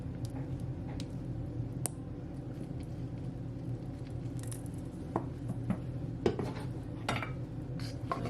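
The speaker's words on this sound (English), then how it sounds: "Give it a stir." Honey-based sticky chicken wing sauce stirred in a bowl, with a spoon clinking and scraping against the sides in irregular light taps over a low background hum.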